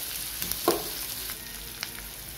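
Onions sauté in hot oil, a soft steady sizzle with a couple of sharp spatula clicks, close up and without talk.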